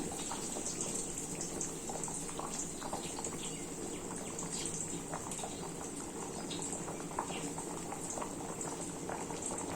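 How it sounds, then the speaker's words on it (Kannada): Drumstick sambar bubbling at a steady boil in a pot, a constant close rolling simmer with small pops and gurgles throughout, no voices. "ಸಾಂಬಾರು ಚೆನ್ನಾಗಿ ಕುದೀತಾ ಇದೆ."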